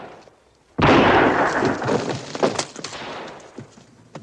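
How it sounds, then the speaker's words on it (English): A cannon fires with a sudden loud, close blast that fills the whole range, then rumbles and crackles as it slowly decays over several seconds, with no talking. "I don't think you'll ever hit any of them with that cannon,"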